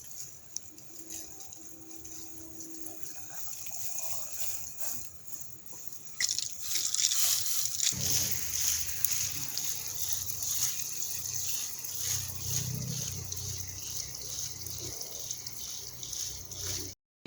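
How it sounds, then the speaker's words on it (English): Water is poured onto freshly planted vegetable seed pots, first as a faint trickle and then as a steady splashing stream that goes on for several seconds, close and without talk. "Now you will water it. Give it a nice,"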